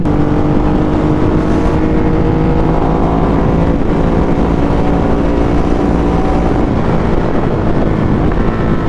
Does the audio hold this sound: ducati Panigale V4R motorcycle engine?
yes